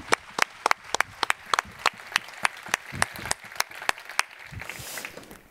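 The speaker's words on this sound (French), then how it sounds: "Je vous demande d'applaudir bien fort notre candidat Alexis Hulz" Applause from a speech-contest audience at a national eloquence competition in Aix-en-Provence, heard as sparse, distinct hand claps in an irregular rhythm that thin out toward the end.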